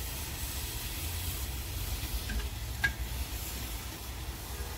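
Chicken curry cooking in cow's ghee over a village stove, a continuous soft sizzle and hiss with faint stirring and a small clink near the middle.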